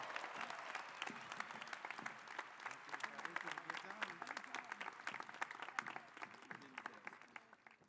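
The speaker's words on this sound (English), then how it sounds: "Let's have one more round of applause for your student body president, Riley Nilsson." A crowd at the Cal Poly spring commencement ceremony of 2018 gives a sustained round of applause for the student body president, a dense, steady patter of many hands heard from a distance, quiet overall and tapering off toward the end.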